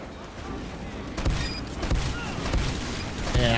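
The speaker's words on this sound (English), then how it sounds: "And toss some grenades up there." Grenades go off in Team Fortress 2 as loud, rumbling blasts that overlap one another over a continuous, dense din of gameplay, close and heavy throughout.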